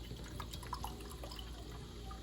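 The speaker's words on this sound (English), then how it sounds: "simply open up our apple cider vinegar, pour roughly about a cup in there" Apple cider vinegar pouring into a mason jar, a steady, fairly quiet liquid trickle with small splashy glugs, continuous for a couple of seconds with no voices.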